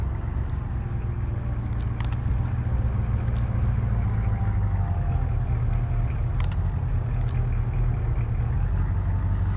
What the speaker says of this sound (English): that's when I hear a vehicle approaching